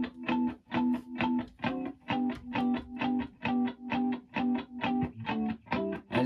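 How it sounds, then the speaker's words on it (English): Two interlocking plucky electric guitar lines played at once, with short distorted, chorused notes in a steady repeating rhythm of about two plucks per second, bright and upfront with no voices. "We came up with these really cool, plucky guitar things. It's just 2 lines played at once."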